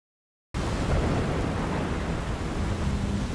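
A heavy storm at sea with high waves, a dense, loud rush of wind, surf and rain that bursts in abruptly after a moment of silence and keeps roaring steadily, with no voices.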